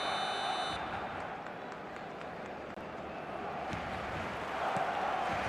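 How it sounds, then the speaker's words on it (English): A full stadium crowd in an eFootball match roars steadily and evenly throughout, with faint horn-like tones sounding briefly at the start. "The stadium is full of noise and energy."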